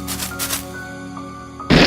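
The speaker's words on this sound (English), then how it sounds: "The flower pops up." Sound effect from the horror video game Ib as a flower pops up from the ground: a sustained eerie tonal drone with soft swells, then an abrupt loud noisy burst near the end.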